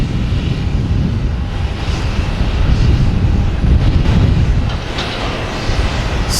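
A United Airlines airliner bound for Newark passes near Boston Logan Airport, a loud low-pitched engine rumble that swells slightly in the middle and holds steady, heard alone without talk.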